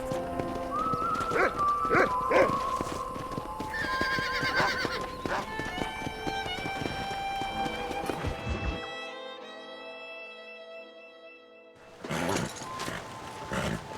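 Horses whinny and hooves clop steadily on a ranch in the Red Dead Redemption video game, layered over game music and ambience, with a brief quieter stretch before the sounds return.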